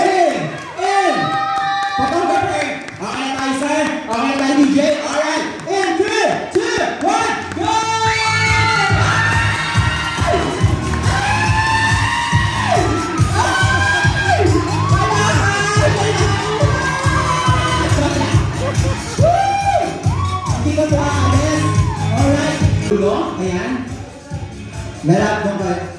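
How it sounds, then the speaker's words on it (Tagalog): At a lights-and-sound setup for a wedding in a subdivision, a crowd claps and cheers in rhythm, shouts and whoops rising over continuous loud chatter and voices calling out. "Sabayan natin ang palakpak para ma-distract sila."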